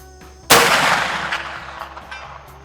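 A CVA Optima black powder rifle fires one loud shot at a 340-yard target outdoors, a sharp blast with a long decaying rumble over a steady low hum.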